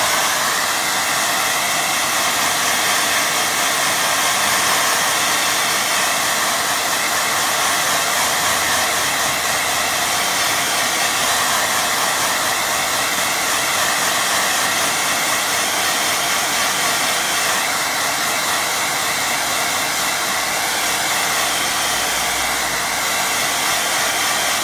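A hair dryer blows on a watercolour painting to dry it, a loud, steady rushing whir that runs unbroken and close for the whole stretch with no talking.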